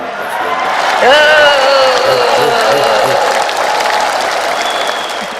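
Applause at a political gathering about Megawati and Jokowi, steady and loud for several seconds, mixed with crowd noise, a bright tonal whistle or cheer sliding across it, and voices talking over the clapping.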